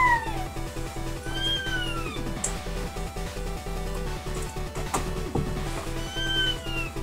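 A person mimics a cat, producing several drawn-out, rising and falling meows with gaps between them, heard over a steady rhythmic electronic music background.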